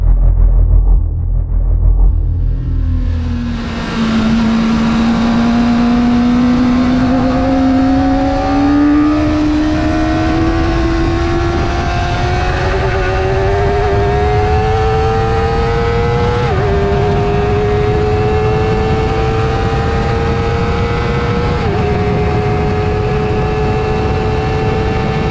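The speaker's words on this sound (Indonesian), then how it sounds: "ini bukan engine yang bisa kita pandang sebelah mata, karena walaupun dia 400cc tapi ledakan tenaganya bisa disandingkan dengan motor 700cc" Kawasaki ZX-4R 400cc motorcycle engine revving at the Sentul circuit, climbing steadily in pitch through long pulls with brief dips at gear shifts, loud and close with no voices.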